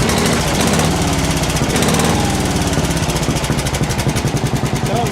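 Tractor engine running after an exhaust repair, a loud, steady, close chugging putter with a rhythmic pulse that stays even throughout.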